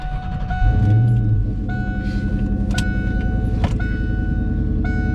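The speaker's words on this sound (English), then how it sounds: "turning your car on, reversing out of the ramps" A lowered car's engine starts up and runs close by while repeated beeping chimes sound at regular intervals, with a few clunks as the car reverses down race ramps.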